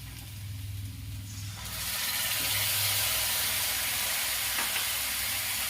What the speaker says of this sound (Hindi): गैस को बिल्कुल स्लो कर दूंगी क्योंकि अब दही मिला हुआ मसाला इसमें डालूंगी